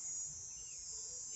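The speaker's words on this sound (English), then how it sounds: "that sounds like cicadas." Cicadas buzz outdoors on a sunny day, a faint, steady, high-pitched drone that holds without a break, with no voices over it.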